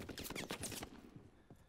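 A quick flurry of gunshots in a World War II sniper game, fairly faint and sounding distant, the rapid cracks fading out after about a second with one more faint pop.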